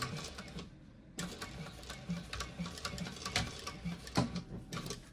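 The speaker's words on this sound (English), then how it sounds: "I'm sewing with vinyl, so I'm going to do a second row of stitches around this." A sewing machine runs a second row of stitches around vinyl for a handbag, a close, rapid mechanical ticking and whirring that pauses briefly near the start and then continues steadily.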